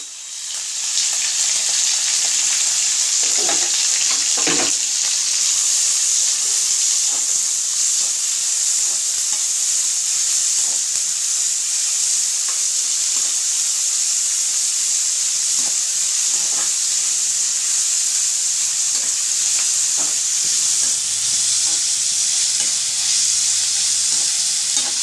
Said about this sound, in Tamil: ஆனியன் போட்டாச்சு. இவங்க நல்லா வதங்கட்டும்.